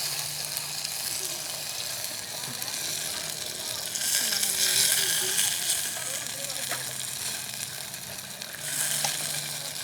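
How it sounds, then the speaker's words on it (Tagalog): Meat sautéing in a pan at a campsite in Calatagan, Batangas, giving a steady, close sizzle and frying hiss throughout with occasional stirring scrapes. "Gisa muna natin saglit."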